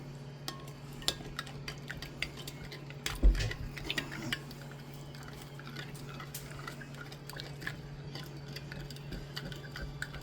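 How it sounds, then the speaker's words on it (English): A spoon stirs a Jello mixture in a pot, faint scraping and clinking taps scattered irregularly over a steady low hum, with a slightly louder clatter partway through. "I'm going to give it a quick stir"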